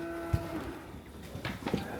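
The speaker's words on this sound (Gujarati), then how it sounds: "અહીંયા બહુ બધી ગાયો છે" Many cows at a cow shelter low and moo in short deep calls, one early and several more toward the end, with faint rustling and ambient movement around them.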